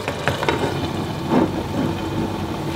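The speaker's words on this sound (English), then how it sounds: "I'm gonna leave it simmer for half an hour or so on a very low heat." Food simmers on very low heat in a home frying pan covered with a plastic chopping board in place of a lid, giving a soft, steady sizzle with faint crackles throughout.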